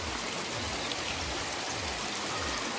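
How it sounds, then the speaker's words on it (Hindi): Heavy rain pours down steadily during neighbourhood flooding, a dense, even hiss of falling water and running flow, constant and fairly loud, with no talk. "जब ज़्यादा बारिश आती है तो ज़्यादा पानी आता है। तो हमारे मोहल्ले में भी अब ज़्यादा पानी आ गया है।"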